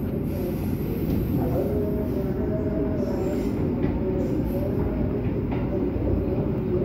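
Argo Parahyangan passenger train running through Jatinegara station without stopping, a loud steady rumble of wheels on rail with a faint squealing tone held throughout.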